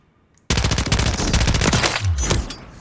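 An AMR9 fires in Call of Duty: Modern Warfare III, loud fast rattling bursts that start abruptly after a short quiet moment and run almost continuously, close and with no talking.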